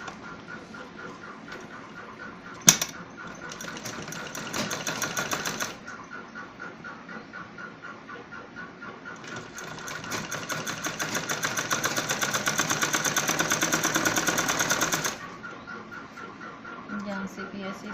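A sewing machine stitches a child's romper, running in two sustained bursts of rapid, even needle chatter, the longer one lasting several seconds, with quieter stretches of motor hum and a sharp click between them.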